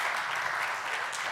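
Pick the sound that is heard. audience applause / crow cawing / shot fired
audience applause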